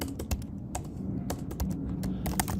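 Rapid, uneven keystrokes on a computer keyboard as React Native component code is typed, close and fairly loud, with clustered clicks and short pauses and no voices.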